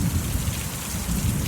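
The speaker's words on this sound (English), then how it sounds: "as this thunderstorm is cleansing us right now" A thunderstorm brings steady heavy rain drumming close by on surfaces, with a deep rumble of thunder rolling underneath, loud and continuous.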